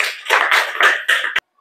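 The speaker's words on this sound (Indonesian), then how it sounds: "Tepuk tangan dulu, kasih aplaus ya." A small group claps at a classroom teachers' session in short uneven bursts, ending abruptly with one sharp clap before silence.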